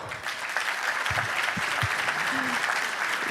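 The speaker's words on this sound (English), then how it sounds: "So we want to give a big round of applause to our event and corporate sponsors." A fundraiser audience applauding, a steady, even patter of many hands clapping at moderate distance through the whole short stretch, with a few faint voices underneath.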